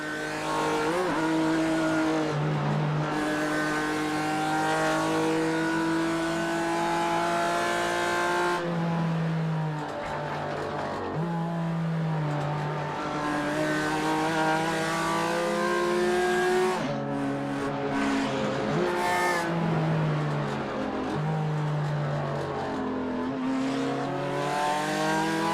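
BMW and McLaren race cars in Gran Turismo 4 scream continuously at high revs, engine pitch climbing through gears, dropping on shifts and braking, then rising again over a sustained loud drone with no talking.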